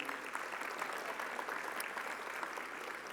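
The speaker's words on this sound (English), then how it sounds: "let's give her a round of applause" Full, sustained applause from an awards gala audience at a national conference, a dense even wash of clapping filling the hall.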